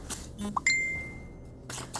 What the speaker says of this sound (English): Sorry about that, people are messaging me.